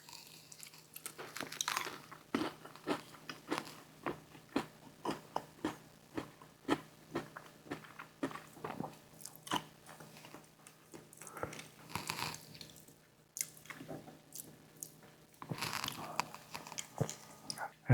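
Close, crunchy bites and steady chewing on Jack in the Box hot honey spicy strips dunked in sauce, repeating in an uneven rhythm for the whole stretch with no talking.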